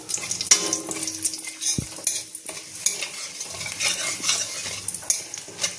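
Dried red chilli goes into hot oil and sizzles, with close hissing and crackling broken by scraping stirs and clinks of a utensil against the pan, and no voices.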